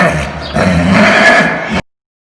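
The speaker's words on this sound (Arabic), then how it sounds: "حصان" A horse neighs in one long, loud, harsh whinny lasting nearly two seconds, close and alone, then cuts off into silence.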